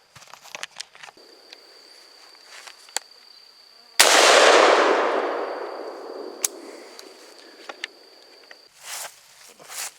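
A single loud 5.56mm rifle shot strikes a concrete block, its blast rolling off in a long decaying echo, framed by scattered small clinks and faint outdoor noise before and after.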